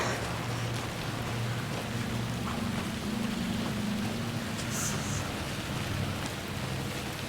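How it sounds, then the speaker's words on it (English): Steady rain hisses in Alan Wake II, a dense, even wash of falling water with a low rumbling undertone and no pauses. "And now it's raining too?"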